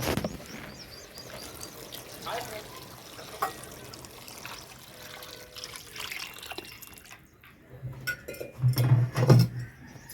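Water poured into a cooking pot for chicken sherva, a steady splashing stream that runs through the clip at moderate level and swells into louder, fuller gushes near the end.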